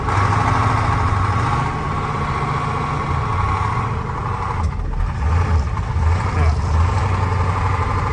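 A farm truck engine runs steadily while the vehicle turns around, a loud continuous low rumble with slight variations as it maneuvers, heard from inside.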